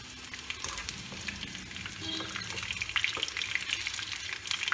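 Bitter gourd deep-fries in hot oil, a close, continuous crackling sizzle with small pops and scraping stirs running throughout, growing slightly louder toward the end.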